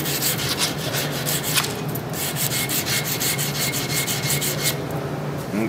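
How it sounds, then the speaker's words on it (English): A steel hammer head is polished with steady, rhythmic rubbing strokes, a close, continuous abrasive scrubbing with no voices. "Okay, we're done with polishing."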